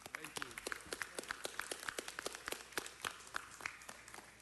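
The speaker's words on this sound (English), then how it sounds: "Let's give him another round of applause." Audience clapping in a city council chamber during a meeting, a steady round of applause from many hands, moderately distant and fairly quiet, with crisp individual claps throughout.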